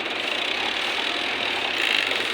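An overlock sewing machine runs steadily at close range, a dense continuous whirring buzz with a fast mechanical chatter that holds even throughout.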